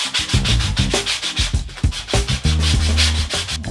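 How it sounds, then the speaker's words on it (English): Coarse 180-grit sandpaper rubbed over foam in quick, rhythmic back-and-forth strokes, loud and close, with a brief tonal ringing near the end and no voices. "Then I'm going to take the more coarse sandpaper,"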